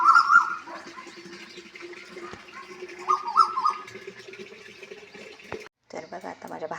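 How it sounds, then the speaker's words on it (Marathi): Morning birdsong drifts through a village courtyard, with repeated chirps and calls, some loud bursts near and others faint, under quiet household noise and brief human sounds. "तर कोकिळांची चिवचिव किती."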